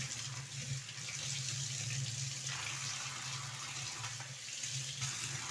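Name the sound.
water running from tap while rinsing woolen rangoli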